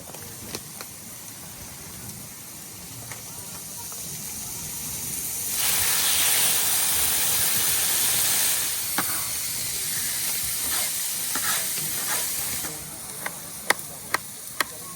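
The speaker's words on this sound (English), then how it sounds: "The onions and the pepper being cooked." Onions and peppers sizzling in a pan, a steady close hiss that swells louder for several seconds midway and then settles back, with a few sharp ticks near the end.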